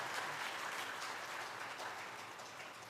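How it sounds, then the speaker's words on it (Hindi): Audience clapping during a Hindi religious discourse, a faint, steady wash of many hands that holds evenly for about three seconds with no voices over it. "प्रभु को सुनाई दे रही आपकी तालियां?"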